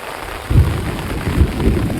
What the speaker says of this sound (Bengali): আর আবারও জোরে বৃষ্টি শুরু হয়ে গেল